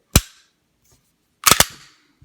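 A Sig P320 pistol is dry fired: one sharp, close mechanical snap, then a pause, then two quick clicks close together, with no talking over them.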